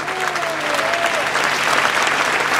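A crowd at an evening event gives event staff a steady, dense round of applause, loud and continuous throughout with a faint voice underneath.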